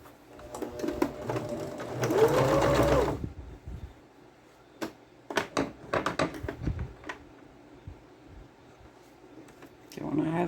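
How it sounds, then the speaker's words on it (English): A sewing machine stitches fabric onto a bag made from a grocery bag, with a loud whirring run of about three seconds followed by scattered short mechanical clicks and taps, then a brief final whir. "I will sew it onto the bag"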